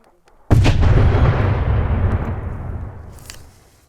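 A mine detonates during special operations engineering training: one sudden, loud blast near the microphone, followed by a broad rumbling roar that fades over about three seconds, with no voices.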